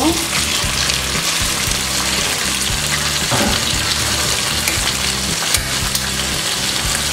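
Chicken pieces hit hot oil alongside deep-browned onions for chicken haleem, giving a dense, steady sizzle and crackle that runs loud and close throughout with occasional stirring scrapes.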